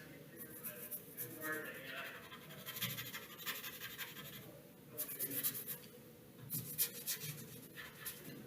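Close scratchy strokes of a watercolor pencil on paper, steady and repeated, with quiet talking underneath.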